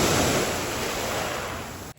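Sea waves wash onto the beach at Sveti Stefan, Montenegro, a loud, continuous rush of surf that fills the whole clip with broad hissing noise and ends abruptly.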